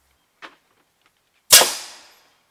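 A homemade cannon powered by CO2 fires with a single sharp, loud blast that decays over about half a second, preceded by a faint brief click.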